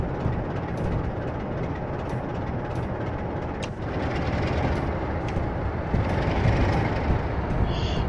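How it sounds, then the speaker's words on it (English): A Class 47 diesel locomotive hauls a freight train on the Bristol to Exeter line in Train Simulator 2015, giving a steady, loud rumble and rail clatter that runs throughout, with a few faint clicks on top and no voices. "This is Class 47, Gareth."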